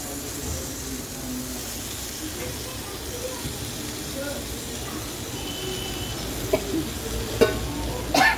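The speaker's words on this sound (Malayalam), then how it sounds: "ഒപ്പം തന്നെ നമ്മുടെ അരിഞ്ഞ് വെച്ചിട്ടുള്ള കോളിഫ്ലവറും ഇട്ട് കൊടുക്കാം." Potato and chopped cauliflower frying in a pan, giving a continuous soft sizzle with a few clinks near the end, under faint background voices.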